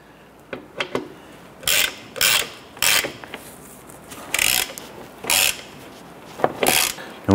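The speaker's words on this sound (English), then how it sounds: "I'm gonna go ahead and snug down our bolt here." A ratchet snugging down a bolt on a 2006-2013 Chevrolet Impala control arm with ball joint, giving several loud bursts of rapid clicking separated by short pauses, close up, with no voices.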